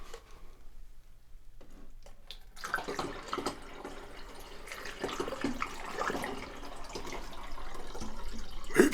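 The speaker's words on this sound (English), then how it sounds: "We'll put a little bit of water in it right now." Water poured into the reservoir of an espresso machine, a soft splashing trickle that begins after a quiet start and continues steadily up close.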